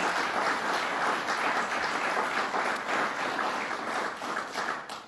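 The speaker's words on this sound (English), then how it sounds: "Let's give them a round of applause and thank them for their good work" Audience applause for officials at a state land acquisition announcement in the Adirondacks, steady dense clapping from a crowd sustained throughout before tapering slightly at the end.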